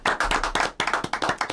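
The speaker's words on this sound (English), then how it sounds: "we need a round of applause for Jen" Crisp, evenly spaced hand claps ring out close and fairly loud at a veterans' community gathering, forming a quick, regular rhythm with no talking.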